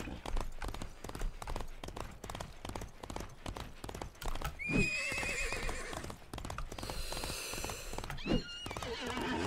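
A horse in the Disney Infinity video game, set in the Lone Ranger world, neighs and whinnies twice over continuous galloping hoofbeats, with game sounds underneath and a voice talking at times.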